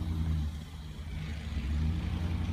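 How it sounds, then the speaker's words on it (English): A car stuck in five feet of blizzard snow in a driveway, its engine droning and revving steadily at a distance, muffled and low with no talk over it. "step on the gas faster"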